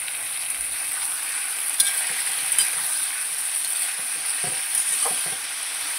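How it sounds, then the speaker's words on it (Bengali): Chicken pieces frying in a kadai for a home-style Bengali chicken curry with potatoes, a steady close sizzle of hot oil with a few light scrapes and clicks of stirring. "তো বন্ধুরা, আমি কড়াতে মাংসটা দিয়ে দিয়েছি।"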